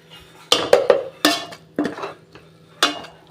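Ground coconut masala being stirred and sautéed in a pan for an omelette egg curry, heard as a series of sharp spoon-on-pan clinks and scrapes in uneven bursts, close and fairly loud, with no talking.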